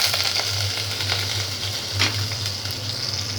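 Soup poured over meat in a hot pan sets off a steady, close sizzle and bubbling with a low hum underneath, with no talking.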